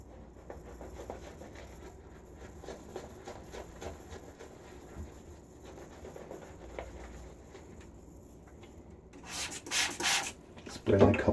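A shaving brush whipping Haslinger sheep's milk soap into lather in a bowl gives a steady, close swishing and rubbing that grows louder and more vigorous toward the end.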